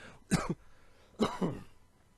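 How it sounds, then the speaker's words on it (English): A man coughs twice close to a podcast microphone, two short harsh bursts with a throat-clearing quality separated by a pause in a quiet room. "I don't like to cough on mic, but it just accidentally slipped out."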